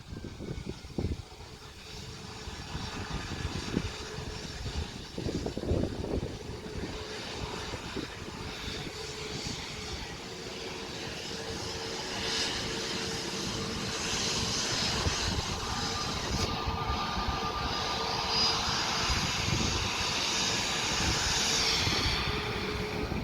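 A jet airliner lands at Manchester Airport on a wet runway, reverse thrust building into a steady, loud roar with rushing broadband noise that swells and holds toward the end, no voices heard.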